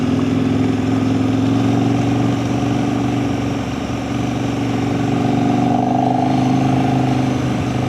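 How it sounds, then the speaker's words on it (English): A KTM motorcycle engine chugs steadily at low speed on hidden Appalachian back roads, a loud continuous mid-pitched drone with a low harmonic hum and no talk. "But the KTM, she just chugs along."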